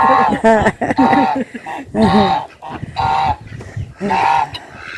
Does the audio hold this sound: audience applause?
no